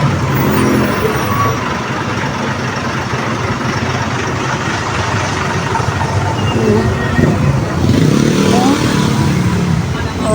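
Heavy, congested road traffic with trucks and motorcycles makes a continuous dense rumble of engines, with a louder vehicle passing close near the end and voices faintly under it.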